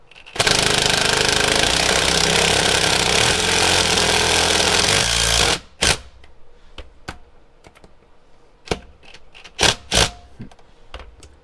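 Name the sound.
impact driver setting a Tapcon screw into concrete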